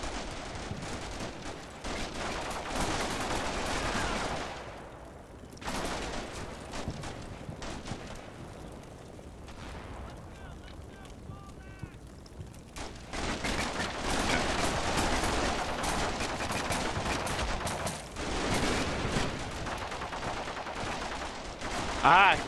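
Bursts of distant video game gunfire and rattling automatic fire come and go over a windy, noisy background, with a quieter gap in the middle.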